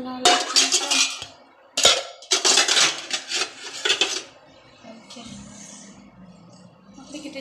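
Dishes, pots and pans being washed in a home kitchen, with bursts of clattering and scraping metal and crockery close by, pausing between rounds, while people talk in Hindi.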